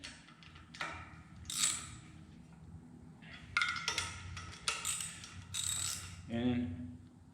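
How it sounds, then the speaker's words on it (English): Bolts being tightened down on a brake lathe adapter, with irregular ratcheting clicks and metallic clatters in short bursts over a low mechanical hum. "And we're just going to tighten these things down."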